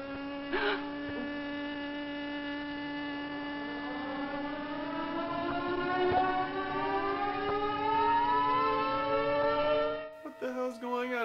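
Wailing sirens from the film Godzilla's Revenge, several rising and falling tones layered in a steady, loud drone that sweeps for about ten seconds before cutting off into brief clatter.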